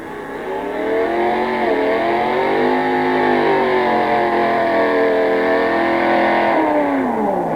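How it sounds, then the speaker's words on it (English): A drag racing car doing a burnout at Long Marston in 1986, its engine held at a loud sustained rev with a rising and falling pitch, close and continuous with no talk. "It's very important to do a very good burnout, because this not only warms the motor up, but also gets those rear tyres hot and sticky"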